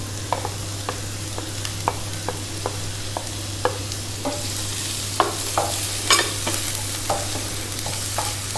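Chopped onions frying in hot oil on high flame for chilli chicken, a constant close sizzle punctuated by regular clicks and scrapes of a spoon stirring the pan, with a low steady hum beneath.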